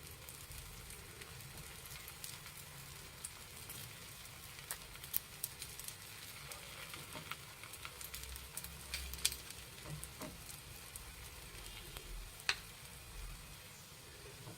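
Ragi rotti sizzles in oil on a pan, a steady faint hiss and crackle with occasional small pops, close and continuous without speech.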